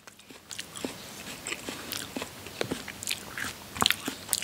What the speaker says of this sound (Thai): อย่างแรกจะมากินแห้วหอม